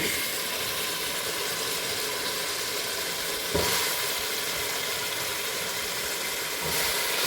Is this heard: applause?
no